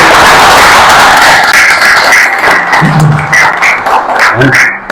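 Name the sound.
audience applause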